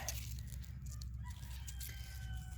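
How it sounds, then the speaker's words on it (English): A rooster crows faintly in the distance over a low steady background hum, with no talking. "you may notice we've got a couple new roosters"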